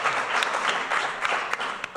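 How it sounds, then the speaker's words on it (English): A community meeting audience claps continuously, a dense, steady wash of many hands with a few sharper individual claps standing out, fairly close and loud throughout. "half of you are clapping loud"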